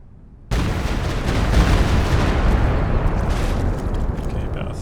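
A walking Stuka rocket barrage in Company of Heroes 2 strikes a 17 pounder, opening with a sudden loud onset that swells into a sustained roar of rapid explosions and rumble which slowly tapers off.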